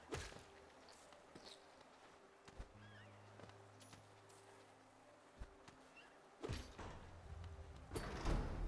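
A door opening in the video game Hollow Knight, a low mechanical hum and grinding slide with sharp clanks, under quiet ambient game music and scattered impacts.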